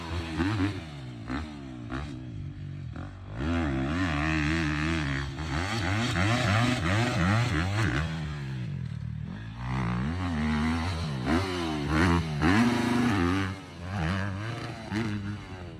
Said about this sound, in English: here's a first look of Austin Forkner on the new bike